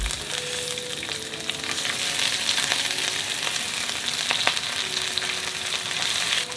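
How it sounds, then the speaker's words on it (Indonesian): Chicken karaage frying in oil at a mountain campsite in Dieng: a steady, loud, close sizzle with scattered crackles and pops running throughout, no voices. "Ini goreng chicken karage, simple dan praktis."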